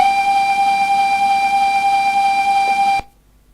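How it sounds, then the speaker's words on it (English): Steam locomotive whistle in Train Simulator 2016, one loud sustained tonal blast held steadily for about three seconds before cutting off abruptly into near silence. "Press spacebar or click the lever shown in the picture to sound the whistle."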